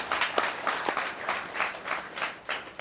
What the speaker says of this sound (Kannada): ಚಪ್ಪಾಳೆ ತಟ್ಟಿ ನೋಡೋಣ ಅವರಿಗೋಸ್ಕರ